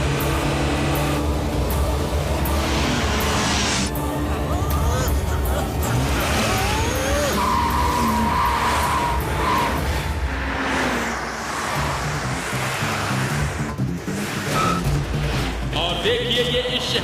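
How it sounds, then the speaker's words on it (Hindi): Motu Patlu cartoon race cars speed along and overtake one another, engines roaring and revving continuously with passing whooshes and occasional squeals, dense and loud throughout, mixed with voices. "सारी कारों में आपस में होड़ लगी हुई है कि आगे कौन निकलेगा।"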